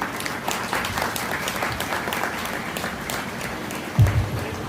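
An audience at a school event at GVHSS Kalpakanchery applauds steadily after an inaugural speech during an education minister's visit, a moderate wash of clapping that lasts several seconds, with a dull thump near the end.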